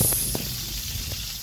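Garlic, onion and tomato sauté in hot oil for bitter melon with egg, making a steady close hiss with a few faint clicks, and nobody speaks.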